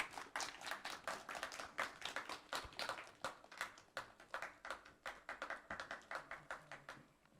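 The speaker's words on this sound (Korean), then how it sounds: "여러분 앞으로 모실 때 박수로 맞아주시면 감사하겠습니다" A small audience at an AI service developer course final presentation claps to welcome the judge: distinct, fairly quiet individual claps in a loose, steady rhythm with no talking.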